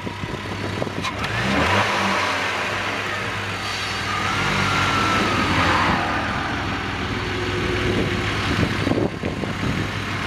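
A warmed-up BMW car engine running with no cooling fan fitted, revving in broad swells over a steady idle hum, loud and close throughout.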